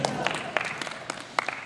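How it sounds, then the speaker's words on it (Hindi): An audience at a Hindi-Urdu poetry gathering claps in scattered, uneven bursts, a brief patter of hands under a speaking voice. "अपने लिए क्लैपिंग कीजिए।"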